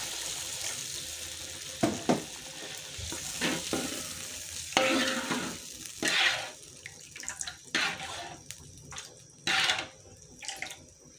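Water poured onto fragrant spices frying in a pan while cooking taucu with gembung fish, a loud sizzle and hiss with scraping stirring strokes in uneven bursts, close and without speech.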